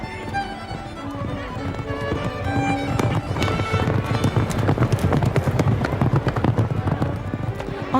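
Horses trot at a harness race track, their hooves clip-clopping in a quick, steady rhythm that grows louder and closer, with tonal music running underneath.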